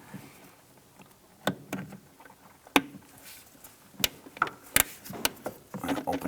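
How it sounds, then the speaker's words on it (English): Needle nose pliers work a metal hose clamp on the intake of a 2005-2007 Ford Five Hundred, giving scattered sharp metallic clicks and scrapes at irregular intervals, close and fairly quiet against a soft background. "There's a metal hose clamp here. I'm going to use our needle nose pliers to get around the back."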